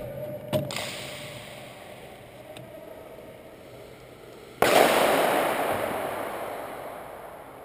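An airsoft grenade bursts during an outdoor airsoft game with a sudden loud pop and a hissing, spreading rush that slowly fades. A smaller faint pop comes a few seconds earlier.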